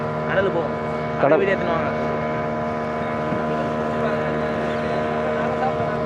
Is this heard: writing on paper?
no